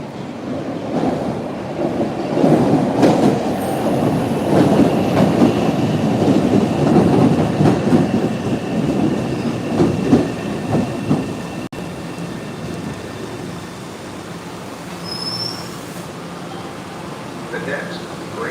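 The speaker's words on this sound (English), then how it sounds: "Here comes the new red line train." A new MBTA Red Line subway train pulls into Downtown Crossing station, a loud rumbling roar of wheels and cars that swells, holds, then eases off. Station sounds and voices carry alongside it.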